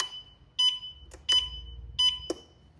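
A Yadea Ruibin electric scooter's turn signal beeps in short, high electronic chirps, about four repeating at a steady pace close by, with faint clicks between them.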